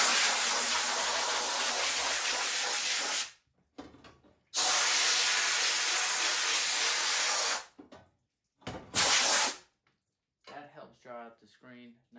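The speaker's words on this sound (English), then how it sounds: "this thing helps too, it's an air compressor" Air compressor nozzle blowing across a screen-printing screen in two long loud hissing blasts, then shorter bursts, with talking during the pauses.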